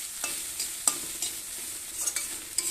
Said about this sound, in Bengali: ভালো করে ঝরঝরা করে ভেজে নিয়েছি ডিম পেঁয়াজ একদম ভাজা হয়ে গেছে